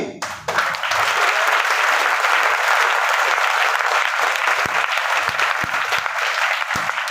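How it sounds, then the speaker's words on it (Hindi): Audience applause at a motivational talk, loud dense clapping from a crowd that starts abruptly and holds steady for several seconds, with no talk over it. "ताली इतनी कम क्यों बजा रहे हो भाई?"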